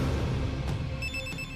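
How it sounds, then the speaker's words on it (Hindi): A household telephone rings indoors, a bright repeating electronic tone emerging after a low rumble of room noise, moderately loud with no voices. "फोन उठा।"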